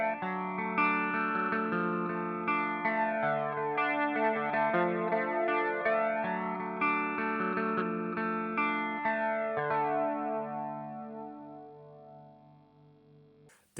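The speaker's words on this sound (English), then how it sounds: "We have the gray flanger, which I use for clean sounds." Clean electric guitar runs through the gray flanger on an HX Stomp, sustained chords and picked notes swirling with a sweeping, jet-like modulation, alone and steady before ringing out and fading at the end.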